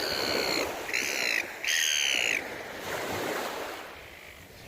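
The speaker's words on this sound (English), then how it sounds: "Seagulls over there." Seagulls call in repeated bright, clustered cries by the ocean, with steady surf and wind washing underneath and the bird calls fading out toward the end.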